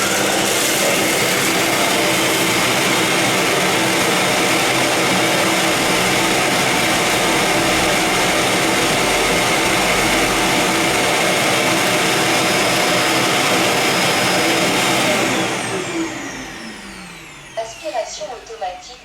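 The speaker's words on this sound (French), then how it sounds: "La station, elle fait un bruit d'enfer. Aspiration automatique de la poussière en plus." A Neabot N robot vacuum's docking station auto-empties dust with a loud, steady roaring suction that runs continuously, then cuts off, leaving quieter whirring and a few clicks at the end.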